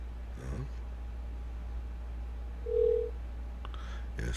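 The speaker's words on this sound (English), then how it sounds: "Yes, it is ringing." A single short telephone ring tone sounds midway over a steady low line hum, heard through a phone earpiece.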